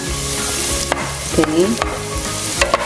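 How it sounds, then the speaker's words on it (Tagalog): Garlic and onion sizzle and get stirred in a hot pan for chicken tinola made with native chicken, a steady close frying hiss with spatula scrapes and clanks, and a brief spoken word near the start. "isunod na natin yung ating sibuyas"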